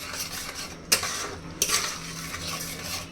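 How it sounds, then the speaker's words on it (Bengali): Ginger garlic paste with chili powder, coriander powder and salt is stirred and fried in a pot, a low sizzle broken by two sharp utensil clinks against the metal, heard up close. "এখন সবগুলো একসাথে ভালো করে কষিয়ে নিব"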